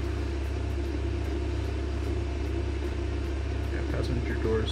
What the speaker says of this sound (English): Let me attach the fuel truck.